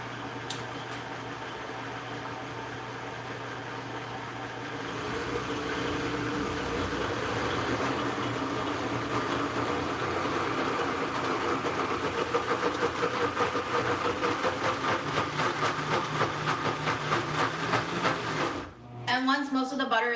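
A Vitamix blender running on a low motor setting while grinding almonds into almond butter, giving a steady loud motor drone with a rougher churning texture building midway and a brief dip near the end.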